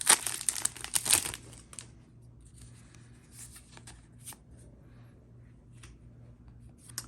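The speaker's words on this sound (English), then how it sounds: "So let's start cracking packs." Foil-wrapped Magic: The Gathering Double Masters 2022 Japanese booster packs tear open and crinkle loudly near the mic in a burst during the first second or so, then soft rustling of cards and wrapper continues quietly.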